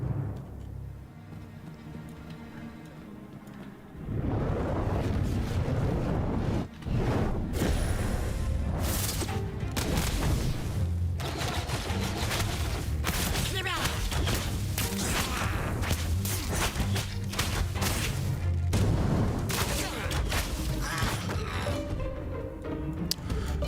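Fire bolt spells exploding in the game Ashes of Creation, a continuous stream of loud whooshing bursts and booming impacts layered densely over game ambience for most of the stretch.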